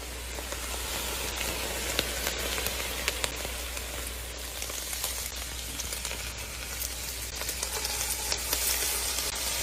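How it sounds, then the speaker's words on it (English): Chopped vegetables sautéing in a pan with drained, browned ground meat for chili, a steady close crackling sizzle with scattered sharp pops and a low constant hum beneath, no talking. "Now we're gonna saute these until they get soft."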